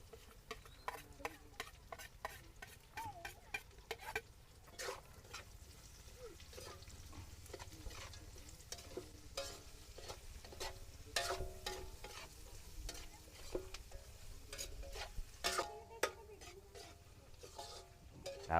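Onion and ginger sauté in a pan with a soft, continuous sizzle, punctuated by frequent scraping and clicking of a utensil stirring against the pan, moderately close and fairly quiet throughout.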